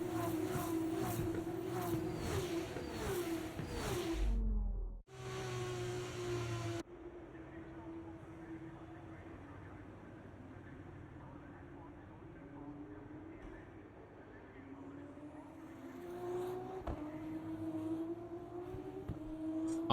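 Formula 2 race cars on a formation lap in the F1 24 video game at Monza, heard as a steady engine drone with rising and falling revs, interrupted by an abrupt cut partway through, while a voice talks over much of it.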